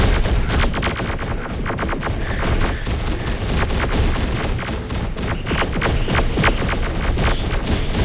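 Battle gunfire in the strategy game Terminator: Dark Fate - Defiance, a loud, dense, continuous barrage of overlapping machine-gun bursts and heavy thumps with no break.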